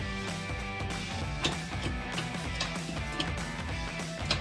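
A mechanical gearbox grinding and whining while shifting into reverse, with ratcheting clicks and clunks as gears engage, steady and fairly quiet.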